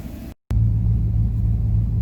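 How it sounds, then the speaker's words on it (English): A car engine idles steadily after a Sea Foam throttle body cleaning and a 15–20 minute hot soak, a smooth, continuous low rumble close by that starts after a brief gap of silence, with no talking. "The engine sounds really nice."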